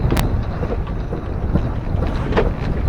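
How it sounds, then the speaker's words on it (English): Strong wind of about 30 knots roars and buffets against the microphone in a constant low rush while sailing, with splashing water and boat noise underneath, no speech. "30 knots of wind."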